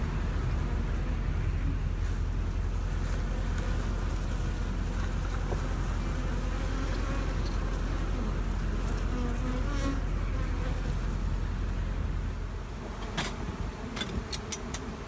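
Honeybees swarm around full, busy beehives, their dense, steady buzz filling the air close by for about twelve seconds before easing slightly, with no talking.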